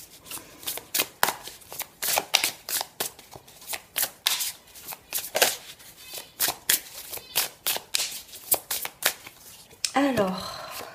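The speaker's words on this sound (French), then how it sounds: "je mets mes petites cartes là" Tarot cards being laid out on a table: a series of sharp, close slaps and shuffling swishes in an uneven rhythm, ending in a brief burst of rustling.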